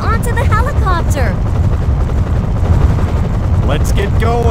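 A helicopter in the video game Metal Slug 3D gives off a steady, loud rotor and engine roar from start to finish. Voices shout over it at moments.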